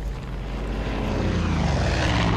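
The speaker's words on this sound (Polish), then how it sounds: "Kurde, te samoloty krążą." Propeller airplanes circling overhead in the video game Far Cry 5, a steady, loud droning engine hum that swells slightly over two seconds, with no talk.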